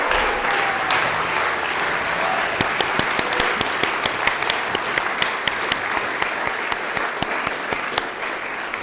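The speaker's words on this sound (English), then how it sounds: "Let's give Sami Shah a big round of applause." An audience at an oration event applauds, with steady, dense clapping that holds throughout, a few sharp individual claps standing out near the front.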